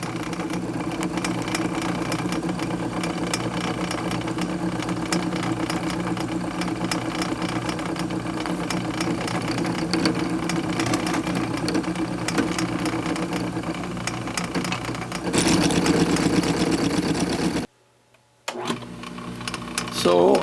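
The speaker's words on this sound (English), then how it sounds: "So I have started milling the thickness of my part" A drill press set up as a milling machine cutting a part, a continuous droning motor hum with rapid cutting chatter, shifting tone near the end before a brief drop to silence and restart.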